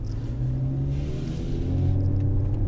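A Mercedes GLE on the move in comfort mode, its engine giving a steady, close low rumble with a slight rising rev toward the end, with no talk over it.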